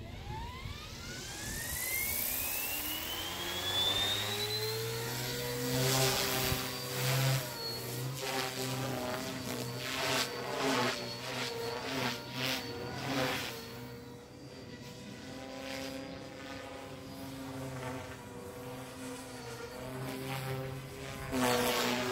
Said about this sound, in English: Motor idle. Motor on.